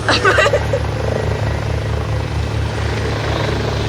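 Steady propeller engine drone heard from inside a NOAA de Havilland Twin Otter, a low constant hum with a brief louder burst at the start, filling the whole span without letup.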